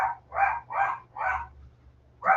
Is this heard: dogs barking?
yes